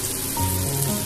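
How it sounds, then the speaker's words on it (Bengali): A large onion fries in hot oil with nigella seeds and a green chilli, giving a close, steady crackling sizzle like light rain that holds constant throughout. "একটা বড় সাইজের পেঁয়াজ আমি ভেজে নেব।"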